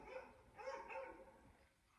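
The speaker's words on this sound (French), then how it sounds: "Désolée pour les chiens." Dogs barking somewhere in the background, a few short, muffled barks over about two seconds with no talk.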